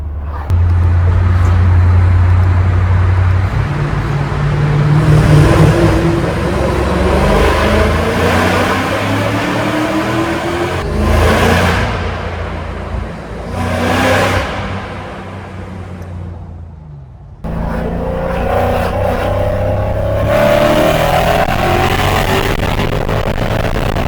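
A Mercedes CL55 AMG engine drones and swells as the car heads toward a tunnel with the windows down, loud road and wind roar around it, easing briefly before cutting out and returning near the end.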